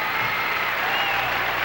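Large crowd applauding at the Miss America 1989 pageant, a continuous, even roar of clapping with faint voices blended in.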